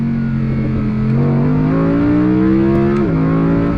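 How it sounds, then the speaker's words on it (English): A 2024 Audi R8 engine revs hard at full throttle, its steady rising tone climbing in pitch as the car accelerates, loud and close with a brief dip near the end as it shifts gears. "So people, let's give it full throttle one last time."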